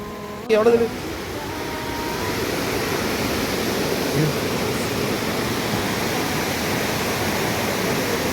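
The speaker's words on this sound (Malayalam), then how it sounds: "ഈ വെള്ളച്ചാട്ടം ഇങ്ങനെ ഒഴുകുന്ന പോലെ നമുക്ക് കാണാൻ പറ്റുന്നത്" Meenmutty waterfall near Trivandrum, Kerala roars steadily as a dense, continuous rush of water, after a brief burst of other noise at the start.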